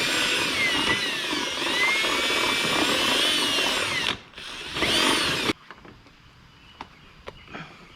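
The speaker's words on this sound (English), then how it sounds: "I'm just gonna try to shake the drill around in there and just see if I can open it up just a little bit" A power drill whines as it bores into a part from a 1984 Kawasaki KDX 250, loud and close with a wavering pitch, a brief pause and restart, then stopping into quiet clicks and handling noises.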